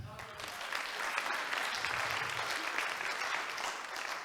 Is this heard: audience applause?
yes